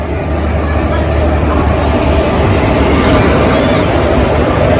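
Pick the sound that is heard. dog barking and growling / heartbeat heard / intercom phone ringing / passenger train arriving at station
passenger train arriving at station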